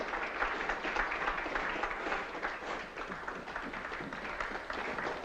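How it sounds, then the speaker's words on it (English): A theatre audience applauds a stage number, a soft, steady patter of many hands clapping at moderate distance and holding evenly for several seconds without a break. "Does the applause warrant an encore?"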